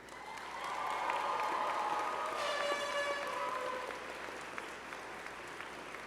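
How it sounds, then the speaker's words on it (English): Sustained applause from a large university convocation crowd fills the space, steady and broad, swelling early then holding before tapering slightly toward the end. "reciprocate by applauding your family, your friends, faculty, and staff"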